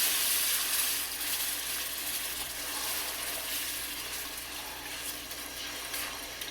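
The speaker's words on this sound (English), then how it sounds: "And then we're going to add our vegetable broth" Vegetable broth poured from a carton into a pan for gluten-free, nightshade-free enchilada sauce, a steady broadband hissing splash that runs continuously for the whole stretch, loudest at the very start.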